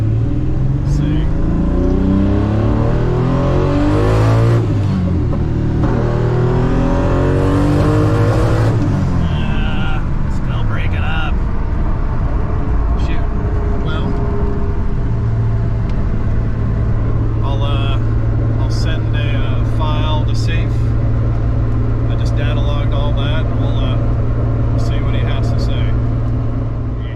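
A car with a 2J engine on its lowest boost setting rolls into the throttle, its engine note climbing through rising pitch sweeps before settling into a loud steady drone, with voices talking in places.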